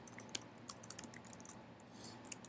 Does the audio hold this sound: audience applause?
no